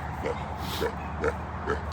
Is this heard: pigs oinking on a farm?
yes